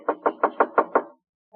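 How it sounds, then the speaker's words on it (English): Six brisk knuckle knocks land on an office door at an even, quick rhythm, close and solid, followed by a short silence. "he's trying to retrieve the first two as he knocks on Dean Bradley's door"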